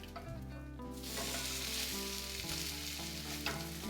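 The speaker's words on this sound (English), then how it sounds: "we'll just let them saute 2 to 3 minutes on one side" Crab cakes sizzle steadily in a hot pan as they saute, a close, continuous frying crackle with no voices.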